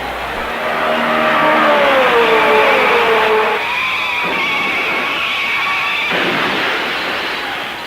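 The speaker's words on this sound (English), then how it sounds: "Jack Turner spun around 360 degrees and drove back into the pit area" Race car at the Indy 500 spinning a full 360 degrees, a loud engine howl with wailing pitch sweeps and tire screech that shifts abruptly as the car turns, held strong and close throughout.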